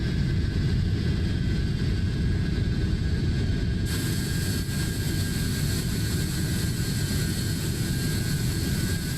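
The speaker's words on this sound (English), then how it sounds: "off we go to Skardu, ladies and gentlemen, with the McDonnell Douglas MD-82, the Maddog that is" A McDonnell Douglas MD-82 jet in Microsoft Flight Simulator, bound for Skardu, gives a steady, loud engine roar with a broad hiss and a thin whine above it, unchanging throughout with no talk.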